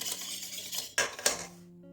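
A utensil scrapes and clinks against a bowl while water is stirred into a dough mixture for pan-fried pies, with two sharper knocks before the sound stops.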